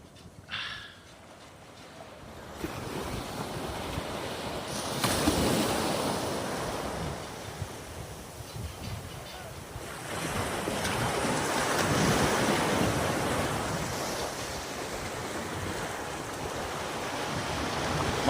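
Sea waves surge and wash onto the sand at Bauang, La Union, rising and falling in broad swells with wind buffeting the microphone; no voices, just steady surf and breeze.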